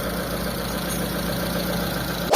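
A Mitsubishi Lancer GLXi engine idles steadily and evenly after repair, a close, continuous low hum with no talking, ending in a short knock.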